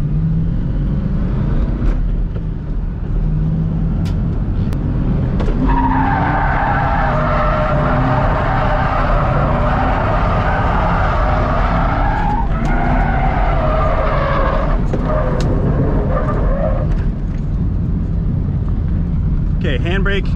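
A Ford Mustang drift car skids around a race track, its tires squealing in long sustained howls over a loud, constant engine roar, with a voice speaking over it.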